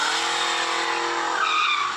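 Car tires skidding and squealing in a road accident, a loud, close, continuous screech of rubber sliding over pavement for about two seconds, with no voices.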